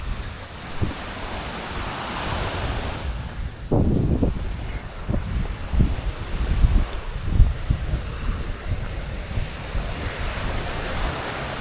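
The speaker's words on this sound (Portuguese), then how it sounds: "Uma praiazinha bem sossegada." Surf rolls onto a quiet little beach near Florianópolis in summer, a steady wash of waves with one louder break, under gusts of wind buffeting the microphone and no voices.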